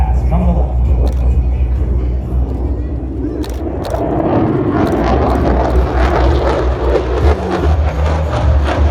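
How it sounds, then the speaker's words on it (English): A Lockheed Martin F-35B fighter jet on a high-speed pass at an airshow, a loud rumbling jet roar that swells and stays heavy throughout, with camera shutter clicks and a voice commenting over it. "The pilot is now setting up for a high-speed pass from the left."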